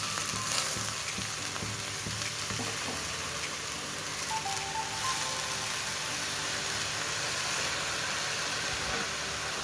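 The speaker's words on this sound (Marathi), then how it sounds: "आता आम्ही याच्यामध्ये भाजी घालतो." Pumpkin leaves fry in a hot pan with a continuous, even sizzle and a faint hiss. Occasional soft stirring scrapes sound under it, and no one speaks.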